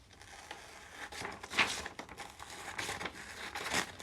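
Thin paper is crumpled up close, a soft, irregular crinkling and crackling with brief louder crunches, quiet and alone.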